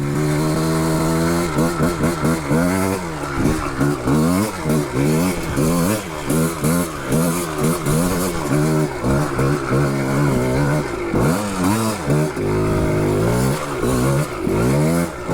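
A 1985 Yamaha Tri-Z 250 three-wheeler's two-stroke engine revs hard and repeatedly climbing an off-camber rocky hill, loud and close with rapid rising and falling bursts of throttle.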